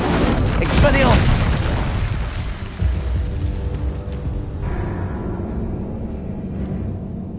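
A Confringo spell explosion in Hogwarts Legacy, a heavy boom bursting up front and rumbling off into a lingering low tail, with game voices and ambience beneath.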